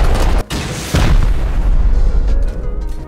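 Rocket explosions during a base raid in the Rust video game, heavy booming blasts arriving in quick succession, loud and close, with a rumbling tail that fades out.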